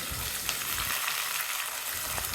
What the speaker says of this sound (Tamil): மீடியம் சைஸில் 2 வெங்காயம் பொடிசாக வெட்டினது, மீடியம் சைஸில் 2 தக்காளி, கொஞ்சம் கருவேப்பிலை, இதை சேர்த்துட்டு இப்போ வதக்கலாம்.